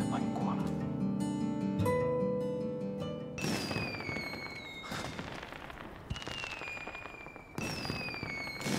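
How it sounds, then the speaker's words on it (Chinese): Fireworks go off at a school at night in a romance drama scene, with dense crackling bursts and rising whistles repeating over a steady din and light background music. "放烟花？"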